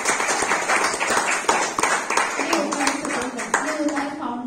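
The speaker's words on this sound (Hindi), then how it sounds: "उनके लिए तालियां बजाए" Audience clapping at a human rights council felicitation ceremony in Goa, a steady patter of many hands that runs on under a speaking voice.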